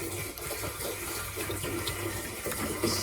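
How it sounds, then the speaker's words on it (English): Antifreeze from a second jug pours steadily into a boat's fresh water system, a continuous close liquid gush and trickle like water running into a tank, alone with no voices. "So I'm gonna add my second jug of antifreeze."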